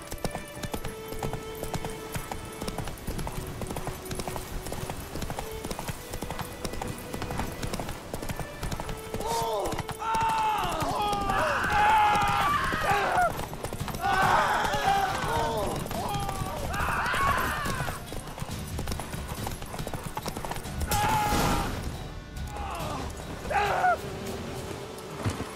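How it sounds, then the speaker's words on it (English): Horse galloping in The Witcher 3 video game, rhythmic hoofbeats running steadily under game music, with a few louder pitched cries and character talk over the middle stretch. "Run, Roach."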